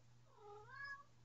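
A single quiet cat meow, rising then falling, short and clear over a faint low hum.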